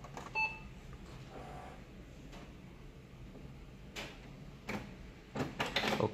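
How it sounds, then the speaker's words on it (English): A printer powering on: a short electronic beep at the start, then scattered clicks and brief mechanical whirs and clatters that grow busier toward the end. The sounds are quiet and close, with no talking. "So here is the printer. So you are going to go ahead and turn it on."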